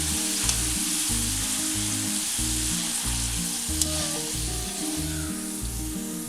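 Homemade French fries frying in hot oil, a loud dense crackling sizzle that runs steadily throughout, close up, with faint clinks from stirring and no voices.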